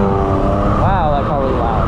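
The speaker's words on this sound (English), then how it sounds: "Wow, that car was loud." Loud car passing close by on a road, its engine tone rising and falling in a brief sweep against steady traffic noise.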